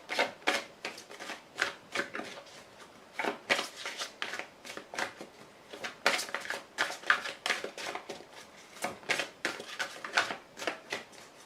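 Tarot cards are shuffled and handled close up in a rapid, continuous run of crisp riffling flicks and slaps with a busy, irregular rhythm.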